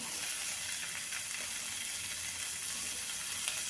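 Chopped onion, capsicum and sweet corn sautéing in a pan, giving a continuous close sizzling hiss with light stirring clicks over a few seconds and no voices.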